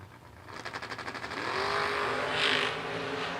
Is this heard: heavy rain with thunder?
no